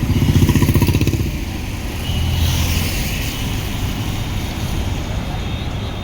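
A motorcycle on a Delhi to Jaisalmer road trip is cranked on its electric self-starter, cranking a little long before the engine catches and settles into a loud, steady idle close by.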